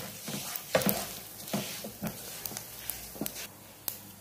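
Sesame seeds and a pounded spice mix sizzling in hot oil while being stirred, a soft frying crackle broken by irregular scraping and popping clicks, fairly quiet and close.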